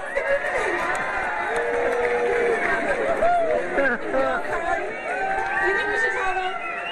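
An audience cheers and whoops for a race winner, mixed excited voices rising and falling continuously, fairly loud and close, with people talking within the crowd.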